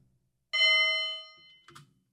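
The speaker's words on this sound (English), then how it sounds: "Love the train crossing bell." Train crossing bell used as an attack sound effect in the game Wizard With a Gun, a loud sustained metallic ring lasting almost a second before fading, followed by a short clattering hit.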